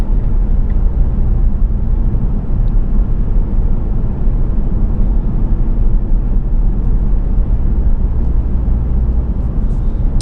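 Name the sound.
2014 Ford Focus Titanium driving, using the select shift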